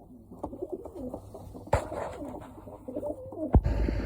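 Pigeons coo in low, rolling repeated calls nearby, with a couple of sudden bumps or flaps breaking in and no talking.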